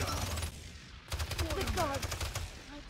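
Rapid gunfire from a Paladins match, a loud burst of shots in quick succession over game effects, with pitched electronic tones and talk mixed in.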